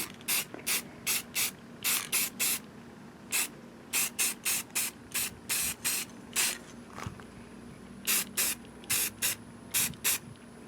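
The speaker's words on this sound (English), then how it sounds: "So let's put this first coat on, see how it comes out." Spray paint going on as a first coat over parts from a lifted Honda Foreman ATV, in repeated short hissing bursts with brief pauses between them, close and clear with no talking.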